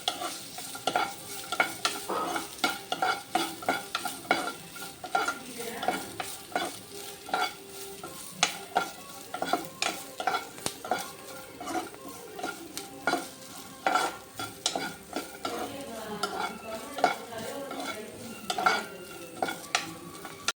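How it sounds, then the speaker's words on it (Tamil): Grated coconut roasting in a pan while being stirred for a millet payasam, a soft continuous sizzle broken by frequent scraping strokes of a spoon against the pan, steady and fairly close, no voices. "நம்ம தேங்காயை வறுத்துக்கலாம்"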